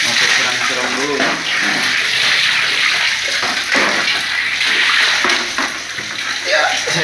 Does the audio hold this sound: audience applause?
no